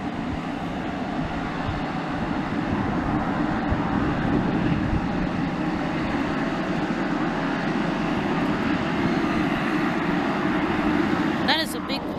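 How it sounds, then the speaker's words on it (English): A large airplane takes off at Aurora Municipal Airport near Chicago, its engines giving a loud, steady roar with a broad rumble that holds for the whole stretch, heard from nearby outdoors. "Hope you guys enjoyed that plane takeoff."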